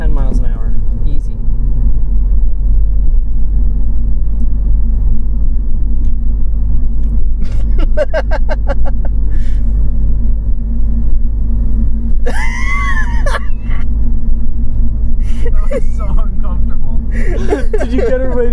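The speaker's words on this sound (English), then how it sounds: "This is a diesel. Look at this. Second gear, 10 miles an hour." A 2012 VW Golf TDI diesel lugs along in second gear at about 10 mph, its low, steady engine drone filling the cabin throughout while people talk over it.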